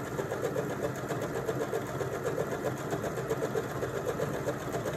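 A Janome DKS 100 sewing machine stitches a bubble design, a steady rapid mechanical whirr with a regular needle rhythm, close and continuous.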